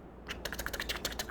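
Fingers type quickly on a laptop keyboard, giving a close run of about a dozen crisp, irregular key clicks after a brief quiet start, with no talking over them.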